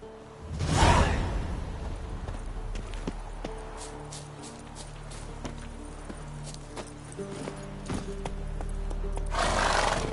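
Horse riding in The Witcher video game: hoofbeats clip-clop at a steady walking rhythm, with a whinny and whooshing gusts at the start and end, fairly close and clear.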